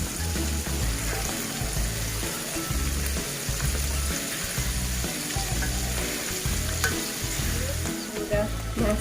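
Catfish frying in hot oil in a pan gives a loud, steady, crackling sizzle that runs unbroken throughout, close up, with no talking.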